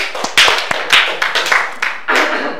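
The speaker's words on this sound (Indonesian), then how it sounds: "berikan aplaus buat kelompok satu" A classroom gives a round of applause for a group, with several pairs of hands clapping quickly and unevenly, loud and close, the burst swelling and then thinning out over a few seconds, with no talk over it.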